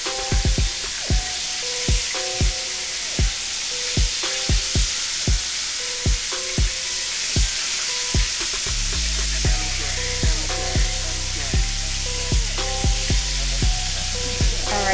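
Chicken pieces for honey garlic chicken fry in hot oil with a dense, continuous crackling sizzle, punctuated by sharp, regular pops and clicks; the texture thickens partway through as more frying joins in.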